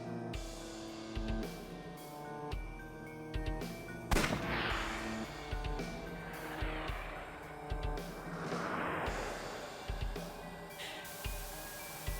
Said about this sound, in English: I'll try shooting it.